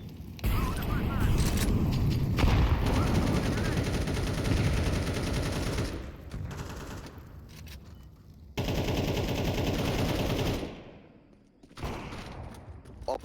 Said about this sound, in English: I'm throwing a flashbang. Throwing fire. Throwing a flashbang.